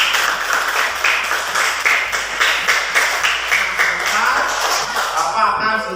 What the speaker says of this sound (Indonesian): terima kasih kepada anak-anak dan tepuk tangan dulu buat semuanya ya